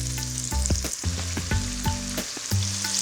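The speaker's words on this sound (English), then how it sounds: "And that sizzle. Love that sizzle." Fish sizzles and fries in hot oil, a loud continuous crackle with bursts of spattering and a few stirring clanks, no voices.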